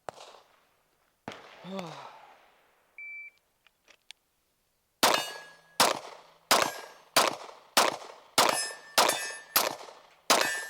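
Pistol shots from a Sig P320 ring off steel targets, eight evenly spaced loud reports with bright metallic clangs trailing each, preceded by a few scattered clicks and a short electronic beep.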